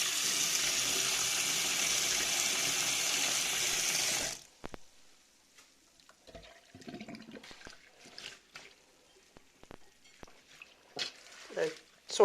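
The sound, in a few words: tap water running while washing food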